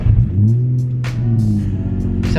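A Nissan 350Z engine hums steadily at low revs as the car drives slowly around a shop on wet ground after rain, a close, continuous rumble with slight fluctuations.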